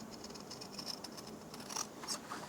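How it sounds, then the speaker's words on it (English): Scissors snip steadily around a sewn fabric pattern piece for a penguin cuddle doll, a close series of small crisp cuts and rustles with no one talking. "So next we're going to cut out around our stitching."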